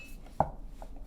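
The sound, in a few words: cutting ends off zucchini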